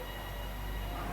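Steady, continuous rumble and rattle from inside a moving Bangkok Airport Rail Link train, a constant low drone of the carriage in motion with no talking.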